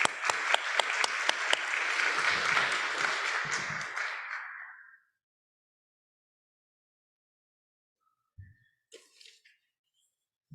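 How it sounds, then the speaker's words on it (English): An audience at the 2023 GHC Summit at UPenn claps warmly for a speaker being welcomed to the stage, with steady, dense applause and a few sharp claps that taper off and stop, followed by near silence and a few faint sounds. "Let's clap for her, please."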